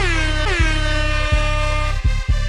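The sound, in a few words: air horn sound effects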